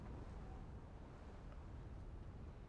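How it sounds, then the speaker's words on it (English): Strong wind gusting outdoors beside an old, crumbling cow barn, a steady broadband roar buffeting the microphone throughout with no let-up. "It's very windy."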